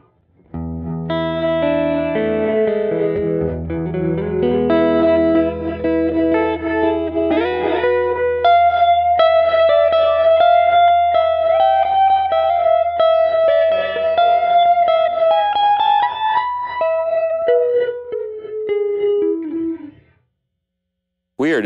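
Electric guitar played through a Line 6 Helix with a tank-style reverb placed before a delay, sustained chords and a slow melodic line swelling with lush trailing echoes, loud and continuous, then cutting to near silence at the end.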